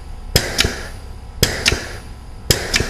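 A hand pump drives MicroSeal sealant into a leak site, giving three evenly spaced pairs of sharp mechanical clacks, each stroke a crisp knock followed by a softer second click, close and clear over a quiet background.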